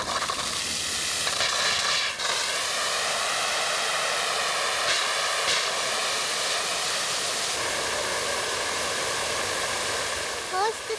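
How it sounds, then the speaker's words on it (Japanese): A fire department chemical truck mixes foam concentrate with water and sprays firefighting foam in a loud, continuous rushing hiss, with a pump whine running steadily underneath, close and unbroken. "これは泡を使っての消火で、泡の元となる原液と水を化学車両で混合して送り出します。"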